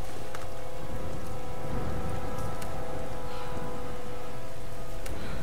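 Rain falling in Tomb Raider, a dense, loud, steady hiss of drops with a few sharper splatters and a low rumble underneath, alone with no voices.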